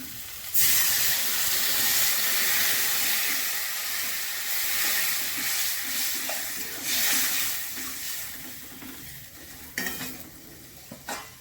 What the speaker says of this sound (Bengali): কষানো হয়ে গেছে, জল দিয়ে দিচ্ছি